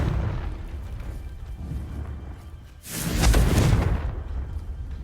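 Confringo fire spell from Hogwarts Legacy going off as a single loud, close explosive burst with a rumbling boom, after a quieter stretch of low ambient rumble.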